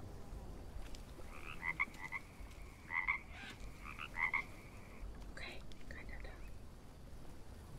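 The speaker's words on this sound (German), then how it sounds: "die Frösche sind übrigens ganz böse." Frogs in the jungle survival game Green Hell give several distinct croaking calls in short clustered bursts over a low ambient hiss, moderately close, with faint murmured speech in the background.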